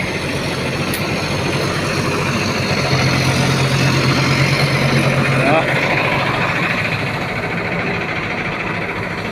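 A heavy diesel engine of a CAT 320GC excavator rumbles steadily at idle for the whole stretch, loud and close, with a faint mechanical whine rising briefly in the middle.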